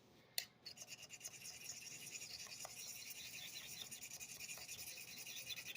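Steel lambsfoot knife blade stroked back and forth across a sharpening stone, a steady close scraping rasp repeating in even passes after a sharp initial tap, with no talk.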